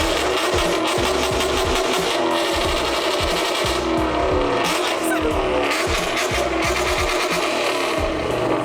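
Several car engines, including an Aston Martin, revving and pulling away nearby as cars leave an event, loud and continuous, with passing roars rising and falling one after another.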